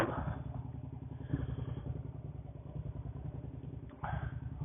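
A Suzuki SV650 A2 motorcycle engine rumbles steadily and loudly with a rapid throbbing pulse, heard close up from the rider with wind buffeting, muffled and continuous throughout.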